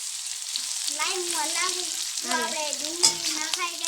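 Potatoes fry and sizzle in a pan for a spiced rice dish while being stirred, with a continuous close sizzle and some scraping; a voice speaks over it in the middle.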